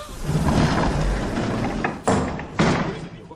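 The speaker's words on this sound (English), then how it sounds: "why would he slam the doors on us?" Doors slam twice in quick succession in an audiobook scene, two sharp loud thuds close by, following a stretch of rumbling low noise and muffled voices.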